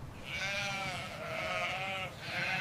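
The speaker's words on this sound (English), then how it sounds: "Millions of sheep graze here, the backbone of Patagonia's history." Sheep bleat on open Patagonian grazing land in three drawn-out, quavering calls, each following the last with a short pause, moderately near and otherwise alone.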